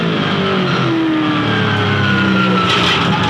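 Touring race cars from the 2007 Dunlop Grand Finale at Phillip Island roar past in a loud, steady blend of engines, with rising and falling revs as they battle closely.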